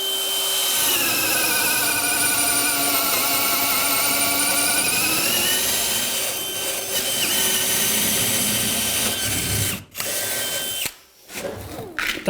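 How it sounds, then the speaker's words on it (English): Large power drill boring a hole through subfloor, a loud continuous whine that holds steady for several seconds, then slows and stops with short bursts near the end. "So let's drill a hole and we'll show you how well this one works."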